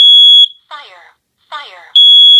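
Smoke detector under test sounding loud, piercing continuous beeps at the start and end, separated by a synthetic voice alert in between.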